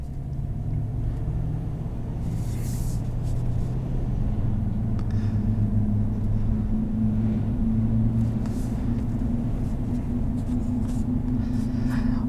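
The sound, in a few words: Chevrolet Silverado 5.3 liter V8 engine driving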